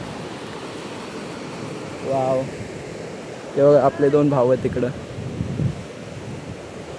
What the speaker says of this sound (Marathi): आणि इथं बघा लाटा गार हवा सुटली